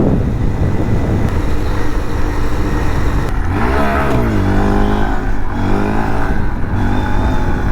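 Mini bike engine revving hard under throttle outdoors on a dusty trail, a loud continuous drone rising in pitch from mid-clip as the rider opens it up, close and steady with no talk.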